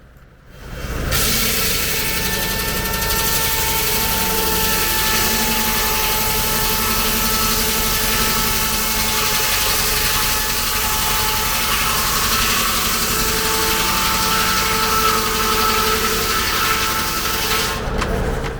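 Tractor-powered vintage sawmill at a harvest festival running steadily, a continuous engine drone with a whining mechanical hum that holds level before cutting off.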